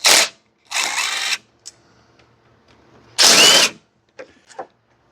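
Power tool removing bolts on a John Deere Z225 riding mower: three loud bursts of an impact driver or drill whirring, each about half a second to a second long, separated by quiet with light clinks of metal parts.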